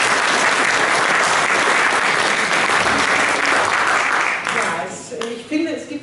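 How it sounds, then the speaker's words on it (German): Loud, sustained audience applause fills a gallery exhibition opening at a Sparkasse bank in Bad Salzuflen, dense clapping throughout before thinning near the end as voices begin to emerge. "Applaus"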